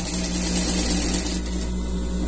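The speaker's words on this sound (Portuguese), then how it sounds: "Vamos costurar até aqui." A sewing machine stitching fabric for a scout costume, running in a close, continuous mechanical whir with a steady hum that eases slightly partway through, with no talking.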